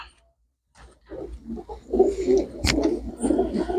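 After a moment of quiet, pigeons checked for sale begin rolling, throaty coos that build into a steady close series, with no voices.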